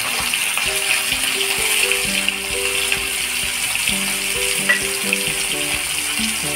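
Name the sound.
Bombay duck fish frying in hot oil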